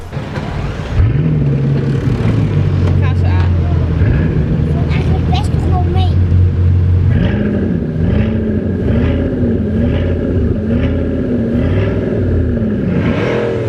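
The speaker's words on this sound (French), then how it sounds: "Toutes les voitures sont en train de partir." Bugatti Chiron supercars and a camouflaged Bentley prototype move off nearby, engines rising and falling through several loud revving surges and gear changes, with someone speaking French over the noise.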